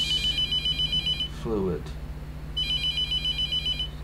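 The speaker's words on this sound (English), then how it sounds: "He said don't pick up the phone. I'm not picking up the phone." A telephone in the video game The Mortuary Assistant rings in repeated electronic bursts, close and clear, with a person speaking briefly between rings.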